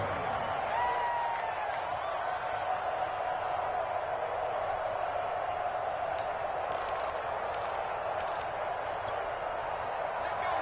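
A stadium crowd in a PS4 American football game hums as a broad, steady murmur with scattered claps and faint cheers, sitting in the background beneath a play-by-play commentator's voice.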